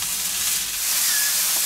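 Steak searing on a preheated Opti-Grill set to its steak sear program, giving a steady close sizzle and hiss that holds for a couple of seconds with no talk.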